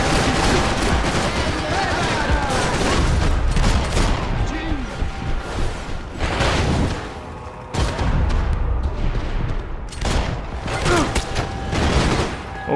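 Dense, loud gunfire in the shooter game Max Payne 3, with sustained bursts and rapid shots that briefly break off and then resume, along with a spoken voice.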